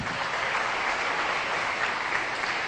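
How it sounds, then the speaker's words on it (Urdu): Sustained studio audience applause fills the space at steady volume, a dense wash of many hands clapping during a Ramadan iftar television broadcast, with no voices rising above it. "ان کے لیے بہت ساری تالیاں ہونی چاہیے"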